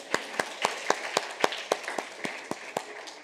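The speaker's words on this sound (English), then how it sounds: "give yourselves a round of applause to making it to 4:30" Audience applause at a hands-on tech session on NFC for IoT, heard as fairly faint, evenly paced claps at a steady rhythm of about four per second that carry on for a few seconds.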